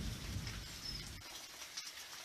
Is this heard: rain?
yes